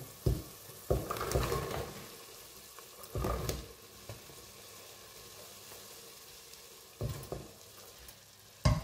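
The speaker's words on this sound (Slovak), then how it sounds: "A do takto pripraveného základu ideme postupne pridávať kapustu." Cabbage added bit by bit into a tomato base in a hot pan, with soft sizzling and frying plus scattered stirring scrapes and thumps.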